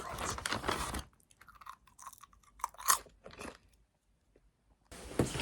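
Food crunching and chewing during a diet day of eating, with loud close crunches at the start and end around quieter, scattered chewing sounds in between; no talking.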